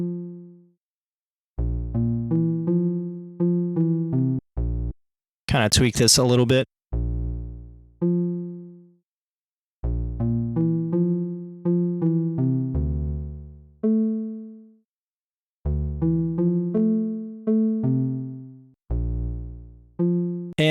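A synth pluck patch built in Serum 2 recreates the pluck from a song: short, bright, quickly decaying notes play a melodic pattern in phrases separated by pauses, with a brief moment of talking between them.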